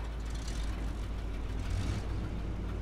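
A winch truck's engine rumbles to life in Expeditions: A MudRunner Game, a low steady idle with a faint hiss on top, continuous and fairly quiet.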